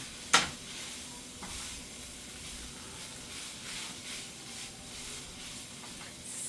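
Small broken-up pieces of butter melt in a pot on the stove, giving a quiet, faint sizzle and hiss after one sharp metallic clink near the start, with gentle stirring bursts following.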